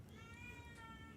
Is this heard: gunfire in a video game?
no